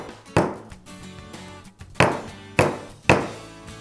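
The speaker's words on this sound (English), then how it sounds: "I'm going to straighten them out by hammering on a steel block" Leather mallet striking silver jewellery charms laid on a steel block, four sharp, fairly loud thunks with short ringing decay, the first alone and three more in a quicker run near the end.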